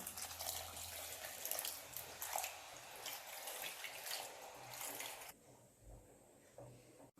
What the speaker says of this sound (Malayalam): ഞാനിവിടെ രണ്ടര കപ്പ് തേങ്ങയുടെ രണ്ടാം പാലാണ് ഇതിലേക്ക് ഒഴിക്കുന്നത്